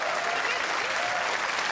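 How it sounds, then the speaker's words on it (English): An audience applauds the race winner at the Gran Turismo World Tour 2020 Sydney Nations Cup esports event, a dense continuous clapping filling the hall at steady loudness. "Give him a round of applause."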